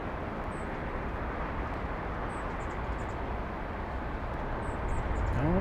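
A large jet taking off at Los Angeles International Airport, heard as a steady, broad, distant roar that swells slightly toward the end.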